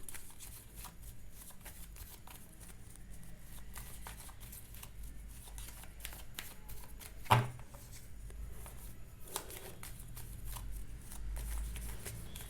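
Tarot cards are shuffled by hand in a quiet room, giving a steady run of soft riffling and papery rustles with one sharper slap of the deck midway; no one speaks.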